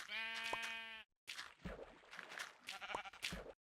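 Sheep in Minecraft, a few close bleats in quick succession, the first long and wavering, separated by brief pauses with shorter bleats following.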